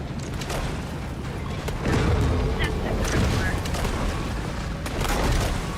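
Booms and blasts in the shark video game Maneater, with grenade explosions and gunfire-like bursts layered in a loud, chaotic mix, and a voice speaking over the action.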